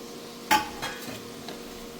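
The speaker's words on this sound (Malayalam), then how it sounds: "ഇതിൻ്റെ പച്ചമണം പോണവരൊന്ന് വഴറ്റ" Curry leaves stirred into a beef pickle mixture in a pan, giving a sharp scrape at the start followed by a few softer stirring sounds over a faint sizzle, close and quiet.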